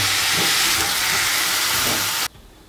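Soy sauce hitting a hot frying pan of carrots and onion, a loud steady sizzle and hiss that cuts off abruptly.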